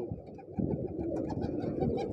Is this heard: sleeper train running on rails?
no